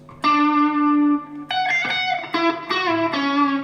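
Single Telecaster-style electric guitar through a Line 6 Helix plays a harmony lead line: a sustained bright note, then a run of clean, slightly driven melodic notes, close and alone.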